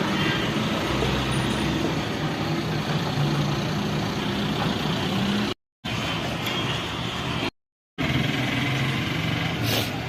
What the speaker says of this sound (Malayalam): ഫുള്ള് താഴെയൊക്കെ വണ്ടിയൊക്കെ പോകുന്നുണ്ട്.